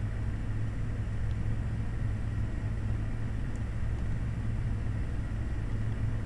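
A small airplane accelerates down the runway on takeoff with flaps up, giving a steady, loud, unbroken engine drone and low rumble that holds level throughout, with no voices.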